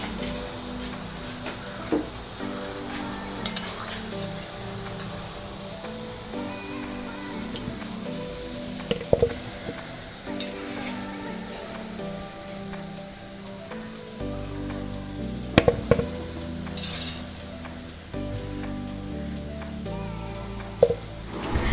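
Bread pieces fry in hot oil for gulab jamun, a continuous soft sizzle and bubbling with occasional sharp clinks of a utensil against the pan, no voices.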